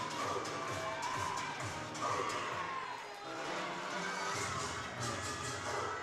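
A crowd at a college gymnastics meet cheers and shouts in a steady, distant roar for a gymnast during her floor exercise, with a brief dip in the noise midway.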